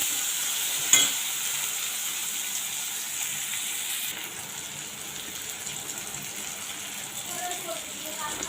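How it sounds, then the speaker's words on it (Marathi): A tomato sautés in a pan for a Konkan black pea curry, a soft, fairly faint sizzle with a sharp clank near the start and a quieter hiss afterward. "आता हे जरा चांगलं परतून घेऊया"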